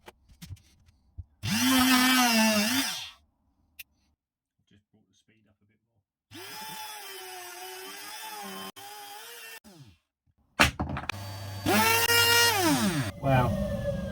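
A small palm router cutting through tough formica-coated board, three bursts of high whining, rising and falling as the bit bites, separated by quiet gaps with scattered clicks.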